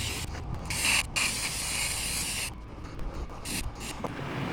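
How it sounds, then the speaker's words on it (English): Hissing bursts of aerosol spray on the inside of an overlanding cube camper build, several short pulses and longer sprays in a row, close by, with brief pauses between them. "I need to spray the inside"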